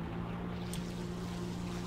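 Ta-152 H-1 fighter aircraft engine in the War Thunder video game gives a steady, loud, droning hum that holds an even pitch throughout, with no talking.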